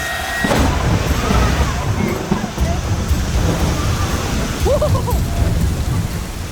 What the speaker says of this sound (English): The rain is just pounding down on it.